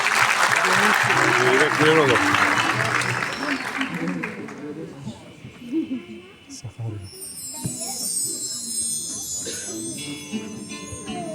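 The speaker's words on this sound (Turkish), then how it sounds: "Onlar için de bir alkış rica ediyorum" Loud audience applause for a zeybek folk dance performance at a school event fills the first few seconds, then thins out as voices and other sounds take over.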